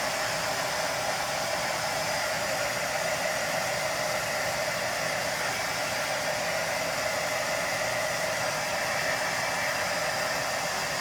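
A hair dryer blows steadily and close by for the whole stretch, drying paint on a mailbox with an even, continuous rushing hiss and no talk over it.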